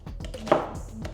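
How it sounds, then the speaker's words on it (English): A kitchen knife chopping an onion on a cutting board during budget meal prep, a few quick, close knocks of the blade striking the board in an uneven rhythm. "We're just going to cut up the onion as well."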